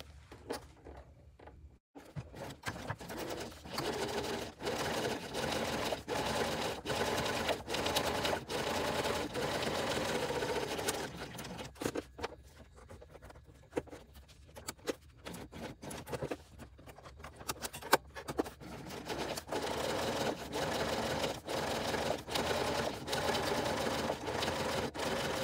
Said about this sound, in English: I'm using a walking foot to help my layers feed through, and a longer stitch length.